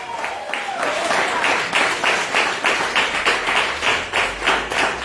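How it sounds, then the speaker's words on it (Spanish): Scattered clapping from a church congregation during a sermon, a rhythmic series of claps repeating steadily through the whole stretch, with a voice briefly audible near the start. "¿Alguien más puede aplaudir por ahí la gloria de Dios?"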